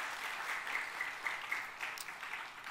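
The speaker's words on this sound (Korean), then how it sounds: "박수." A congregation at a church revival meeting claps, a quiet, somewhat distant patter of applause that swells slightly and fades over a few seconds.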